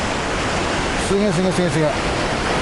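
Kegon Falls in Nikko roaring as a steady, dense wash of falling water close by, while a man exclaims over it.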